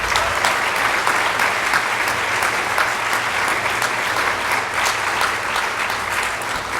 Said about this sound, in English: I want a big round of applause for Neha to encourage her